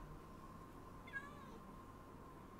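A cat meows once in a video game, a single short, quiet mew over a steady low background hum, with no other sounds standing out.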